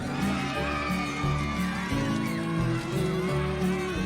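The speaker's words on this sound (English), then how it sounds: "Sounds like a load of 10-year-olds cheering." A large crowd of young children cheering and shouting at a red carpet event, a dense, continuous roar of high excited voices that swells and surges throughout.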